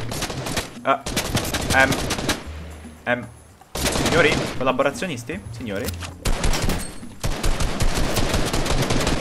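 Bursts of gunfire from the video game Fortnite, rapid repeated shots in several clusters, sounding close and loud, mixed with someone talking in Italian between and over the volleys.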